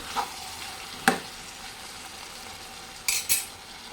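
Chicken curry stirred in a pan for ragi sankati, with a few sharp clinks of a utensil against the pan over a soft, steady sizzle.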